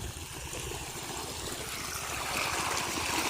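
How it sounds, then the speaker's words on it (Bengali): River water pumped by a shallow pump pours out of the outlet in a continuous rushing gush that swells slightly louder toward the end, close by and alone. "এই যে দেখুন বন্ধুরা জল বের হচ্ছে"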